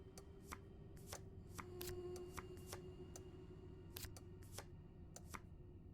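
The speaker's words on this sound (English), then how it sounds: "I'm getting a lot better at this shuffling malarkey." Tarot cards shuffled in the horror game Prognostic: a run of crisp, papery riffling flicks at a steady pace, close and fairly quiet over a low ambient drone, with no voices.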